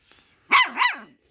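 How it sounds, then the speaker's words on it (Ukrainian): A single Laika's bark, a sharp two-part woof close by, with quiet before and after. "Хто так гавкає?"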